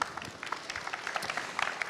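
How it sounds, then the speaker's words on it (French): Quiet, scattered applause from a small audience at a real-estate workshop, light claps pattering unevenly for a couple of seconds. "Peut-être applaudir à nouveau M."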